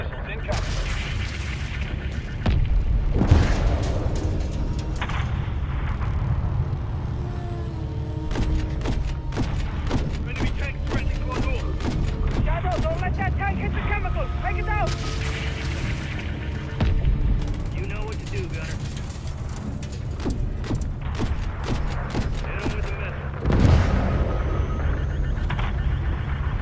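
A combat scene in the video game Modern Warfare 3 rumbles with booming missile strikes and explosions, dense rapid gunfire and mechanical whirring, under intermittent radio chatter.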